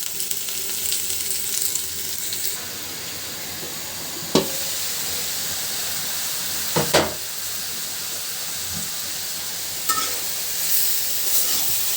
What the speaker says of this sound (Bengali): সবজিটা খুব ভালোভাবে কষানো হয়ে গেছে, একেবারে নরম তুলতুলে হয়ে গেছে।